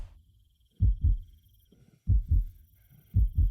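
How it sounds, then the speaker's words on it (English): A heavy heartbeat sound effect from a video game, three deep lub-dub pulses at a slow, steady pace, close and thumping over a faint background hum. "That heartbeat in my ears."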